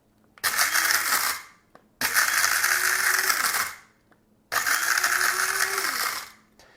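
A small electric grinder for beans or seeds pulverizes dried garlic into powder in three loud pulses of about one to two seconds each, whirring and rattling with short pauses between them.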